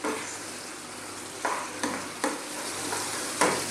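Beef coconut curry frying in a pan while being stirred continuously, a steady low sizzle with a few sharper scrapes of the spoon against the pan, close and clear with no talking.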